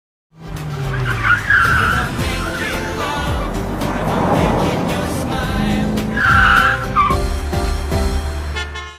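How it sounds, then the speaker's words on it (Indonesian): Car tires skid and squeal almost nonstop through a chase scene from the 2009 Korean drama Boys Before Flowers, where a white sports car cuts off another car. Loud, close engine roar sits under two long screeching swells. "Kejar-kejaran berakhir ketika mobil sport putih itu berhasil menghadang mobil Junpyo"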